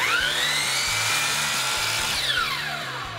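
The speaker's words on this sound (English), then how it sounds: "My first step is to set the miter saw at a 45 degree angle, and I am going to chop this shoe base off." A powered miter saw set to 45 degrees chops through shoe base trim, its loud, steady motor whine rising as the blade bites in, then falling away as it spins down over about three seconds.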